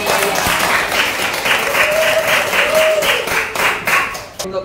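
A class of students clapping together in a classroom, loud, steady applause in a regular rhythmic pattern for several seconds before it tapers off.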